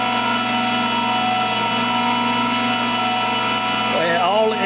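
A valve grinding machine works the valve face of an IHC engine, giving a steady, loud, tonal motor whine with a slight wavering near the end as the wheel meets the valve.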